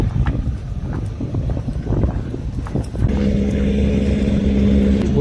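A fishing trawler engine at the Pulau Duyung fishermen's jetty in Kuala Terengganu settles into a steady, loud droning hum after a stretch of gusty wind and mixed harbour noise.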